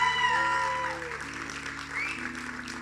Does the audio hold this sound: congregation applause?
yes